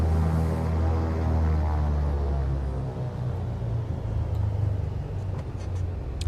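Twin piston engines of a FlySimware Cessna 414 Chancellor rumble in Microsoft Flight Simulator 2020 while the aircraft rolls out toward the runway, a steady low droning hum with throbbing tones, close and continuous.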